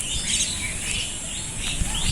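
Dense bird chirping and twittering fills the air, a steady chorus of small birds in a fruit garden with a low rumble underneath.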